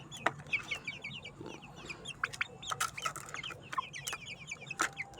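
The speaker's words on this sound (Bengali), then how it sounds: "কক মুরগি" A flock of farm chickens about 38 days old cluck and chirp in overlapping bursts at close range, short repeated calls scattered throughout against a low background hum.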